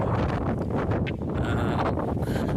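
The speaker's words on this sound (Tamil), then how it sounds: "அவ்வளோ காற்று அடிக்குது இங்கே" Low, blustery rumble of strong wind buffeting the microphone on a mountain about six thousand feet up, continuous and loud for a few seconds.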